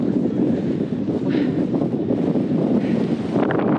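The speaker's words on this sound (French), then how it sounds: "Beaucoup de vent." Strong wind buffets the microphone in a steady, loud roar with gusty rumbles, no voices present, while hiking among the Auvergne volcanoes.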